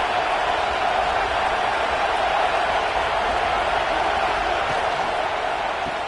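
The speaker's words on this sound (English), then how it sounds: "Listen to this crowd just shaking the girders of this place, trying to help their defense." A packed football stadium crowd at a Florida State versus Clemson game roars in a steady, loud, unbroken wall of noise, cheering to help the home defense, with no individual voices standing out.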